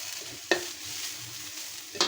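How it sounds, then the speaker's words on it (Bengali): Coconut frying and being stirred in a pan for a semai dessert, a steady soft sizzle with two sharp spatula scrapes against the pan, close and alone with no voices. "নারকেলটা একটু ভাজা নিলে কি রসটা ভালো লাগে"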